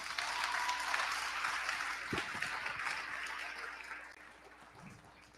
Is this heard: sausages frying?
no